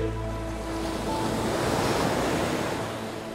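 Ocean waves roll in where gray whales surf and play, a steady wash of surf with a wind-buffeted rumble that swells gradually and holds loud and close, with no voices.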